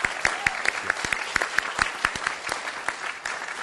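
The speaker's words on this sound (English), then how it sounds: "Give them a round of applause." Small gathering at a school board meeting applauds for band students, a modest group of distinct, separate hand claps with a slightly irregular rhythm, fairly quiet and without talking.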